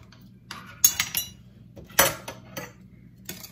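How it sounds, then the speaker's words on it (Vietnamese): A metal spoon clinks against a bowl or pot while adding a spoonful of salt to coconut milk for a cassava dessert, giving a few sharp, bright taps scattered over a quiet background. "Thì trong đây thì mình bỏ vô một muỗng muối nha"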